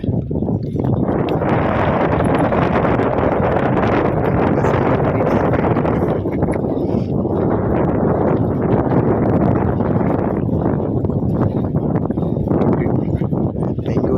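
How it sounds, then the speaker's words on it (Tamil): Strong wind blows steadily and loudly across a hilly outdoor area near a building site in Saudi Arabia, buffeting the microphone with continuous roaring gusts and no other clear sound over it. "இந்த மாதிரி செம்மையாக காற்றடிக்கும்"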